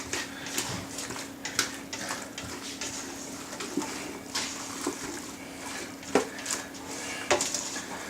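Broccoli and rigatoni being mixed with salt in a metal pot, with irregular clinks and scrapes of a utensil against the pot over a low steady background, close and fairly quiet.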